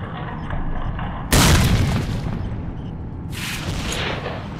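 A grenade detonates in S.T.A.L.K.E.R. Shadow of Chernobyl with a sudden, loud boom that rolls off slowly, and a second burst follows a couple of seconds later over a low, steady background.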